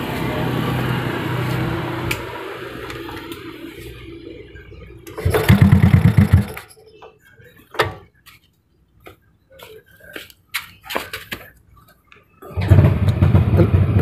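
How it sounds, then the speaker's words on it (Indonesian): An old Honda Supra X motorcycle is kick-started, giving bursts of loud engine rumble between quiet gaps filled with clicks and mechanical taps, ending in another brief burst of engine noise. "Coba kita engkol ya, harusnya normal"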